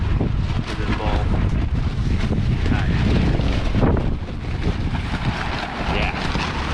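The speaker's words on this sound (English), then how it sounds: "The wind picked up today." Strong wind buffets the microphone continuously with a loud, broadband rumble at a windy outdoor campsite by a box truck camper van, with faint voices partly buried beneath the gusts.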